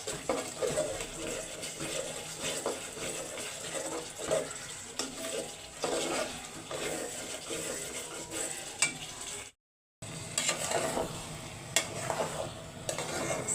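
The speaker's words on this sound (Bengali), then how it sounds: "চাল আর ডাল দিয়ে দিলাম। ডালের কাঁচা গন্ধটা যাওয়া পর্যন্ত একটু কষাবো।" Rice and lentils being stir-fried in a pot for khichuri, giving a steady close scraping and stirring texture over a soft sizzle, with one brief dropout partway through and no talk.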